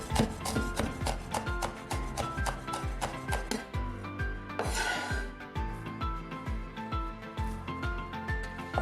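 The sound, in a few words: crushing and chopping mitmita chili peppers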